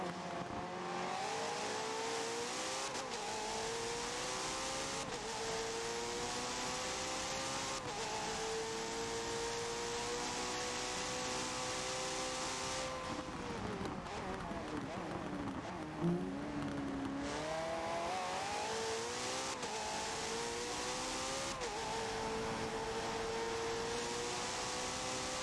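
A hypercar laps Circuit of the Americas at night in a racing video game, its engine holding a sustained high whine that rises and dips through shifts and corners, loud and continuous with no speech.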